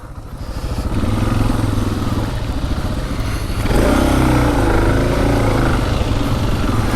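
Suzuki DR650 motorcycle on a messy trail, its engine droning steadily and close with a low thumping note that swells louder partway through, without voices.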